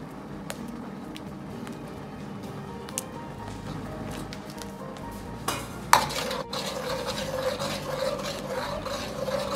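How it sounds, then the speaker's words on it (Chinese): A spoon quickly stirs beaten egg into thickened corn soup in a pot, making soft continuous swishing and scraping with a gentle sizzle, a light clink near the middle, and no talking. "倒完后用勺子快速的推动几下，这样做出的玉米羹鸡蛋花非常的漂亮。"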